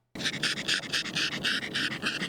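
A dog pants rapidly and steadily at a dog park on a summer day. The breaths come close and loud in an even rhythm, with no talking.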